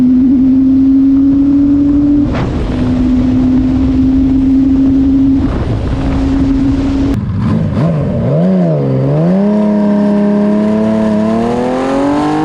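A black Honda CBX 1000 six-cylinder motorcycle runs on the Isle of Man, its engine droning loud and steady, then dipping and rising in pitch as the rider shifts and accelerates.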